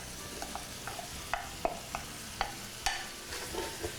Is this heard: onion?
yes